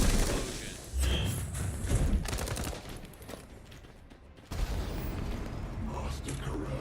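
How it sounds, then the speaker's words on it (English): A drone exploding in a video game amid dense, loud combat: rapid gunfire bursts and heavy booms, a sudden brief lull, then the barrage resuming. "Drone explosion."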